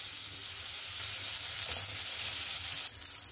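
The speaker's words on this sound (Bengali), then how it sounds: "একটু সামান্য পরিমাণে একটু তেল দিয়ে দেবো আলুটা ভাজার জন্য" Potatoes fry in a little oil in a wok-style kadai, giving a steady, close, even sizzle that holds at a constant level for the whole stretch with no talking.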